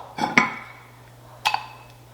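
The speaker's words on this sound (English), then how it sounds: "What I'm going to do is I'm going to dish this up in the bowl." Two bright clinks of a utensil striking a bowl ring out as food is served, each followed by a short fading resonance over a low steady hum.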